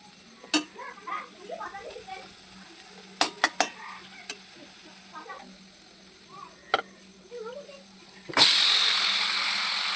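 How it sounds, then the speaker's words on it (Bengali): Chicken pieces dropped into a pan of browned, fried onions for chicken kosha: a few clinks and stirring scrapes, then a sudden loud, sustained sizzle near the end. "এখানে আমার পেঁয়াজগুলো লাল করে ভাজা হয়ে গেছে। এখন আমি চিকেনগুলো অ্যাড করব।"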